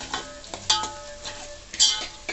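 Biryani leaves (bay leaves) frying in oil for an Andhra-style chicken gravy, a soft sizzle broken by a few clinks and scrapes of a spoon against the pan, close.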